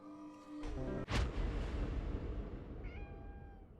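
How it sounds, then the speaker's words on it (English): A black cat in the horror video game Conarium gives a single drawn-out meow that rises and fades, set against a loud low rumbling ambience and a sudden heavy boom. "A black cat."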